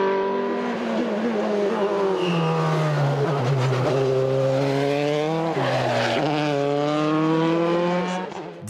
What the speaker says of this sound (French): Au volant de sa Dallara F307, il remporte également la classe DE5S et termine 8e du général.